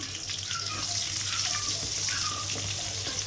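Large sliced onions frying in a pan for a country chicken curry, giving a dense, continuous hiss and sizzle that stays steady and fairly loud throughout.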